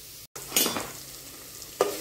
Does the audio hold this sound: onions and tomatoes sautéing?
yes